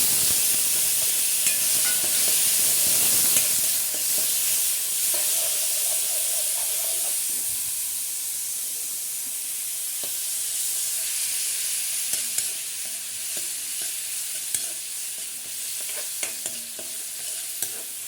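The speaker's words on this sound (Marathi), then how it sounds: "कांदा लाल परतला परतून घ्यायचा" Chopped onion frying in hot oil with cumin while being stirred in a pan, a continuous close sizzle and hiss with scraping stir strokes, no talking.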